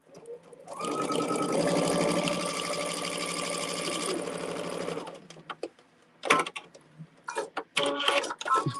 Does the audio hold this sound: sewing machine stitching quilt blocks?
yes